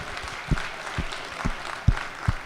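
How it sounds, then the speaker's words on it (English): Applause in the Georgia State Senate chamber welcoming pages, heard as a few sparse, separate claps at a steady pace over a low room murmur rather than a full ovation. "So y'all give these pages a big round of applause."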